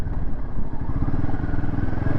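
A Royal Enfield Himalayan 450 motorcycle chugs along off-road in first gear over sandy ground, a near, lumpy engine beat with occasional clatter and thumps.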